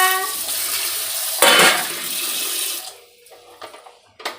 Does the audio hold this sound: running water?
yes